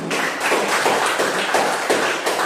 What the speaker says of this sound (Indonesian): Kita kasih aplaus juga.